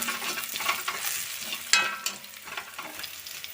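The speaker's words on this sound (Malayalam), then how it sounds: "എന്നിട്ട് ഇത് നല്ല പോലെ ഇളക്കി കൊടുക്കാം" Crushed chili stirred in a frying pan for a Malayalam pumpkin-leaf thoran, a steady soft sizzle with scraping spatula strokes and one sharper clink midway, close and moderately loud with no voices.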